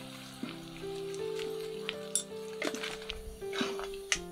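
Spices stirred in a cooking pan with chili powder, meat masala and turmeric, faint scattered scrapes and light metallic clinks at uneven intervals over a steady low hum, with no talking.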